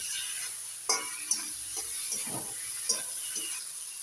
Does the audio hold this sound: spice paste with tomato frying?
yes